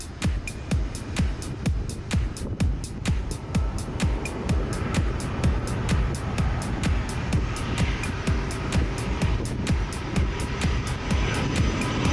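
Airplane making a low flyby over the beach at Phuket Airport, a steady roaring engine wash with a regular rapid pulsing beat running throughout, moderately loud and continuous with no talking.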